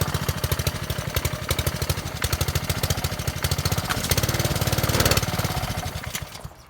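A Ryobi 3100 psi pressure washer's gasoline engine idles on choke, a loud, close, steady chugging drone with a fast regular pulse and no voices over it, swelling slightly near the end before easing off.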